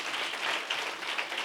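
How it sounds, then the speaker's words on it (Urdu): Audience applause at a Mother's Day sermon, a steady dense patter of many hands clapping together at moderate volume for the full stretch, with no speech over it. "اس کے لیے تالی بجا سکتے ہو؟"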